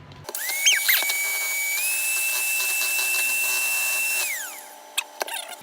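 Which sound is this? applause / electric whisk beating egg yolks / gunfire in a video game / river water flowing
electric whisk beating egg yolks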